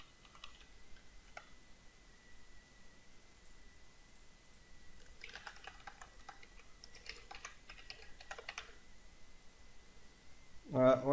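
Computer keyboard keys clatter in short bursts while form fields are filled in, mostly in the middle stretch, with a faint steady tone underneath and a brief voice starting at the very end.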